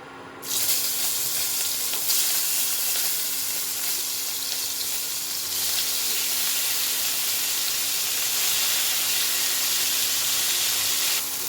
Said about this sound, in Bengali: এবার এই তেলের মধ্যে আমি কপিগুলোকেও ভেজে নেব।